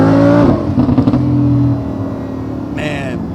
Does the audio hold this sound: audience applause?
no